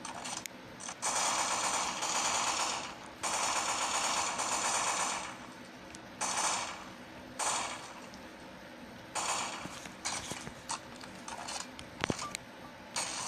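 Weapon fire in the zombie shooter SAS Zombie Assault 3, with long sustained bursts of rapid automatic shots broken by short pauses, then sparser clicks and mechanical reload noises toward the end.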